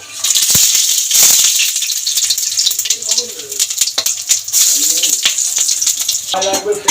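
Whole cumin, bay leaf, dry red chilli, cloves, cardamom and cinnamon crackle and rattle as they hit hot oil in a pan for Bengali papaya ghonto. The sizzle is loud and close, with bursts of spattering, and a voice talks over it.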